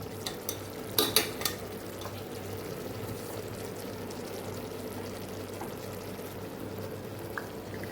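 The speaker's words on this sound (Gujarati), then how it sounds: "ઉપરથી આપણે ભાતને ઉમેરી દઈશું આવી રીતે." Cooked rice for Hyderabadi veg biryani goes onto tempered vegetables in a pressure cooker over a gas flame: a few sharp clatters and scrapes at first, then a low, even sizzle with no talking.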